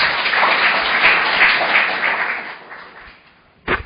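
A crowd at a forum on resuming Mount Kumgang tourism applauds to welcome a lawmaker to the podium: a few seconds of broad clapping that fades out, followed by a single sharp knock.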